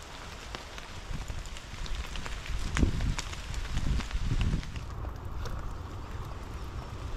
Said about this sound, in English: See the rain coming in.